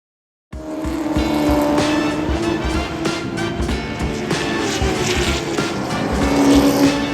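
Race cars at Bowman Gray Stadium during morning practice preparations, engines roaring loudly and continuously after a brief silent start, with revving surges and overlapping passes close by.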